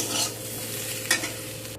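Drumsticks stirred in a frying pan, with a scraping stir over a steady close sizzle of oil and a brief louder scrape near the end.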